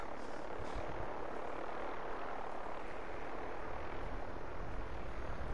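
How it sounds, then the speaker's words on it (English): Helicopter rotor drone in the Fallout 76 video game, a steady broadband whir filling the whole stretch at a constant level with no voices. "Why is there sounds of a helicopter over here?"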